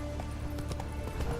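Roach the horse gallops in a video game, with a quick run of hoofbeats drumming steadily and fairly close over a brief stretch.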